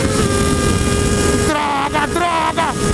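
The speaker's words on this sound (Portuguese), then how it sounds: "esses caras estão acelerando" A Triumph Daytona 675 and a Yamaha MT-09 accelerate hard nearby, their engine notes climbing in pitch in rising sweeps over loud rushing wind noise.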